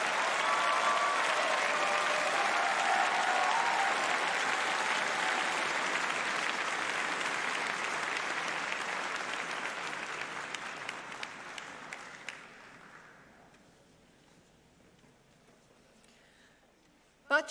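Large audience applauding engineering graduates at a university commemoration ceremony, sustained dense clapping for about twelve seconds before it thins and fades to near silence.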